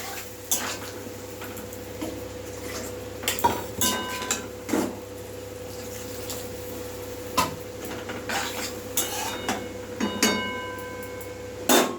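A spoon stirs a spiced vegetable mixture with water in a pot for shukto, making scattered metallic clinks and scrapes at irregular intervals over a steady low hum.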